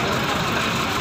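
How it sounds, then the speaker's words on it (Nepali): A hearse's engine runs with a steady, rough broadband rumble. The noise stays constant throughout the short stretch, with faint voice-like sounds mixed in. "हार्वेस गाडी जान राम्रो थियो,"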